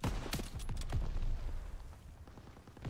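Gunfire erupts in the World War II shooter Call of Duty WWII, a cluster of sharp shots and thudding impacts in quick succession at moderate loudness, easing into a rumbling battlefield background.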